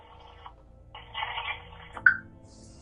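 A phone call placed on speaker rings out with a short electronic ringing tone and a brief dialing chirp, thin and moderately loud over a quiet room.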